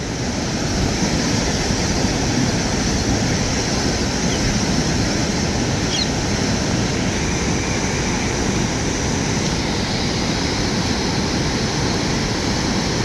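Water rushes through eight opened dam gates near a village in Nalgonda district, a loud, steady, close roar with no breaks and no voices.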